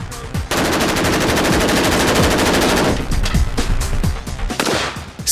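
A polymer-bodied assault rifle fires long, rapid automatic bursts, loud and close, with a short pause and then a further stretch of shots.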